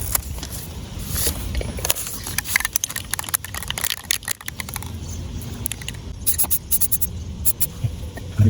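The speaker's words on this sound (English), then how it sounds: "I'm gonna give it another quick spray." Aerosol spray paint hissing in short bursts over a stencil laid on a street curb, outdoors with traffic noise behind, some scraping and handling sounds between sprays.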